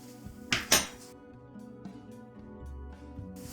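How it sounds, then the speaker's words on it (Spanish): Hot cake ingredients being mixed in a bowl with a utensil give two sharp clinks early on, followed by softer scraping and knocking against the bowl. "Vamos a mezclarlos bien."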